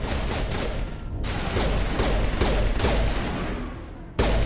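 In the video game Mass Effect, weapons fire and explosive rocket blasts form a loud, continuous roar of combat, ending in a sudden heavy burst.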